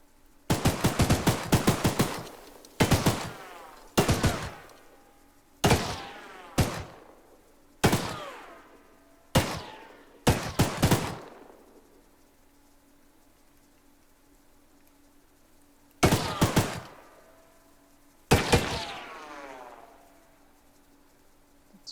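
An automatic gun in a video game fires in about nine loud, close bursts, each stuttering volley trailing off into a ringing echo, separated by short quiet gaps.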